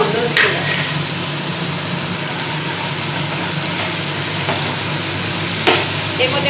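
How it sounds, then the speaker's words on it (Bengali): Onions fry in hot oil in a pan, a steady broadband sizzle running evenly throughout with faint stirring scrapes, close and moderately loud, no talk over it. "পেঁয়াজটা ভাজতে হবে, পেঁয়াজ যতক্ষণ না তেল ছাড়ে ততক্ষণ ভাজতে হবে"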